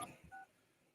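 Telephone keypad DTMF tones from dialing a 1-800 number on a call, a short run of bright steady beeps heard close and clear right after a brief soft voice sound.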